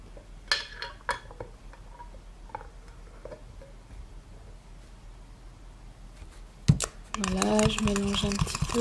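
A spoon stirring a honey mixture in a bowl, giving sparse light clinks and scrapes that grow into a louder clattering burst near the end, with some quiet talk.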